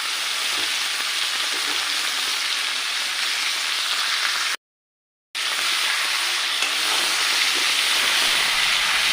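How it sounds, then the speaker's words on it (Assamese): Duck meat frying in a pan with turmeric but no other spices, a loud continuous hissing sizzle that cuts out briefly in the middle and then resumes just as strongly. "মাংসখিনি এতিয়া মই একো মছলা নিদিয়াকৈ ভাজি ল'ম ভালদৰে।"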